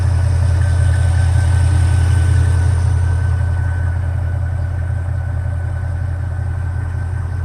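Mercedes-Benz car engine running at a steady idle, a continuous low humming drone with a faint whine above it, close and unchanging throughout with no talk.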